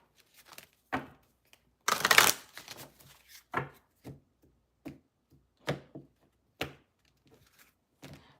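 Tarot cards being shuffled by hand, a series of close, soft riffling bursts and taps with one longer, louder riffle near the start, separated by quiet pauses.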